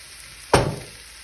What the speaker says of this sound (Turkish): Ve sebzelerimle etimin birbirine karışması için iyice karıştırıyorum.